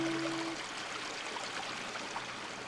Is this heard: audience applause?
no